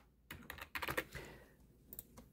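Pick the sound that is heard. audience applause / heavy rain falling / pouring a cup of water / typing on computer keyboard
typing on computer keyboard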